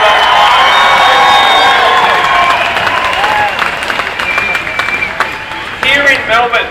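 A large outdoor crowd at a health and medical research rally in Melbourne cheers and applauds loudly, sustained clapping and shouting that thins out slightly, then swells again near the end.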